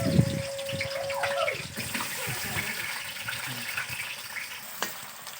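Potatoes dropped into hot white oil in a kadai, crackling and sizzling steadily at close range, with a brief tonal ring near the start and light stirring or handling noises.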